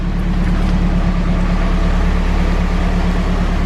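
A Nissan S15 Silvia engine idles steadily after starting, recorded close to the exhaust, giving a loud, even, continuous rumble with no talking.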